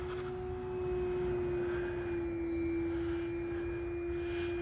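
A 50-inch wingspan RC Sbach aerobatic plane with a Rimfire electric motor on 6S batteries flies at just over half throttle, giving a steady, sustained whine and drone that swells slightly as it passes.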